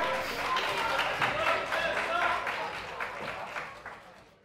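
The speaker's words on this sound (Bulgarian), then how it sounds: "аплодисменти и за тях" An audience at an anime expo applauding an esports team: a short burst of dense, steady clapping that fades toward the end, heard across a hall.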